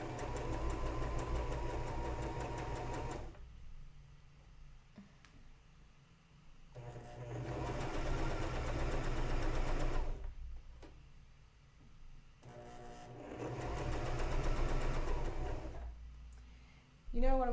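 Sewing machine stitching fabric for French seams, running in three long bursts of steady mechanical whirring separated by quieter pauses, with a sharp clunk at the very end.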